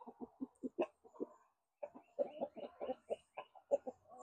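Backyard chickens cluck in a steady run of short, close calls while pecking at grass, with a brief pause midway before the clucking resumes even busier.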